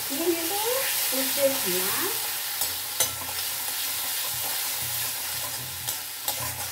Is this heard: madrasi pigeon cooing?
no